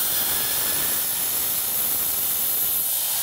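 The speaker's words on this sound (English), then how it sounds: "One last thing to show would be to actually attempt to pierce this half-inch" A Hypertherm Powermax 30 plasma cutter pierces half-inch steel on 220 power, a loud, continuous rushing hiss that stays steady and close throughout without breaks.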